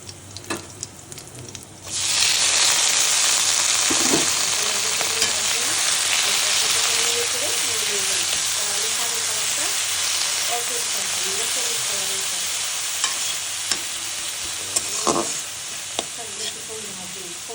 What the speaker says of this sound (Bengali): মশলা দিয়ে বেগুনগুলোকে একটু ভেজে নিচ্ছি।